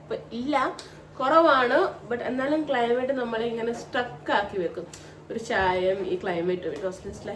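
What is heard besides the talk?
None of the usual background noises is heard.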